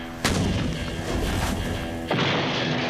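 An explosion with a sharp blast onset, then a sustained rumbling roar and a second heavy boom near the end, loud and close.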